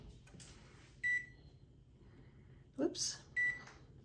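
A kitchen timer beeps twice in short, bright electronic tones during pumpernickel bread baking, with a brief spoken exclamation and some clatter between the beeps against a quiet room hum.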